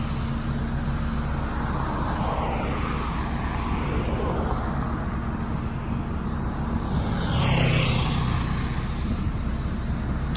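A motor grader works a laterite road, its heavy engine giving a constant loud rumble that swells in a brief rev partway through.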